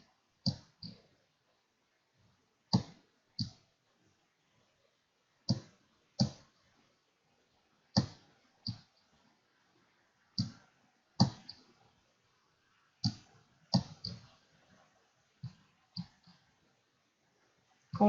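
A computer mouse clicking during a geometric drawing task, sharp close clicks mostly in quick pairs, repeated at irregular intervals in a quiet room.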